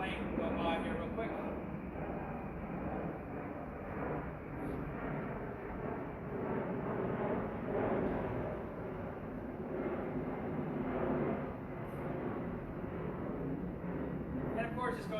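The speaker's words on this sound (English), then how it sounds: "Plane will go by here real quick." A fixed-wing airplane passes overhead outdoors, a steady low engine drone that sustains through the whole stretch, fairly loud and constant, with speech-like murmurs faintly mixed in.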